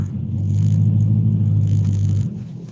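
A tuned car's engine drones loud and close with a steady low rumble for about two seconds, then cuts off abruptly near the end. No distinct gear changes stand out.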